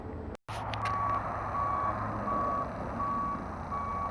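Reversing warning beeps from a truck pulling in close by, a regular series of evenly spaced electronic tones over a low engine rumble, after a brief cut at the start.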